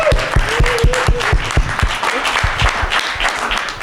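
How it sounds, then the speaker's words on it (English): Audience applause at a property industry masterclass: dense, steady clapping from a crowd throughout, fairly loud and close, with individual sharp claps standing out near the start. "if we could give a big round of applause and a big welcome"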